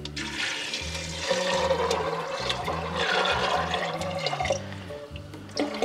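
Water gushes steadily into a cooking pot holding whole spices such as bay leaf, cardamom and black pepper, making a continuous splashing pour over a low background hum.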